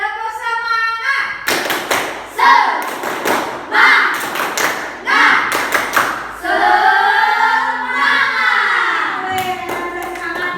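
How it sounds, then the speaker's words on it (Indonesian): Classroom of students doing the 'tepuk semangat' spirit clapping chant, rhythmic bursts of hand claps and thumps mixed with group chanting voices, loud and close, a teacher's voice also heard. "Yuk kita melakukan warming up dengan tepuk semangat."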